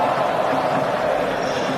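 A cricket crowd fills a grandstand with a steady, broad murmur of many voices and chatter, continuous and fairly loud throughout, with no single sharp cheer standing out.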